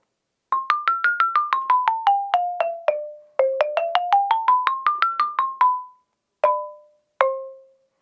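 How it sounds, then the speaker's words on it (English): A wooden Orff xylophone struck with mallets, playing quick descending then ascending runs of bright, ringing notes, followed by two isolated single strikes that decay alone. "So this is a xylophone."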